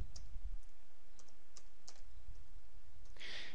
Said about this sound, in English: So basically I'm going to type in